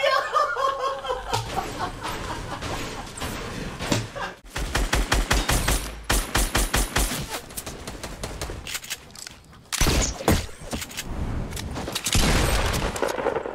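Rapid bursts of automatic gunfire in a Fortnite match rattle out in quick volleys, with sharp single shots scattered between them, while players chuckle and react in the background.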